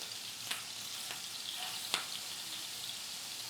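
A hot pan sizzling for bison burger patties, a constant gentle frying hiss with two sharp ticks or pops, close but fairly quiet, with no voices.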